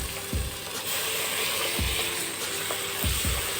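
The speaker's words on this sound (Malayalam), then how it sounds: "ഇനി നമുക്ക് ടൊമാറ്റോ പൂരി ഇടാം." Tomato puree sizzling in a hot pan for a paneer biryani with cashews and groundnuts, a steady frying hiss broken by several distinct scrapes and clinks as a spoon stirs it, close and clear.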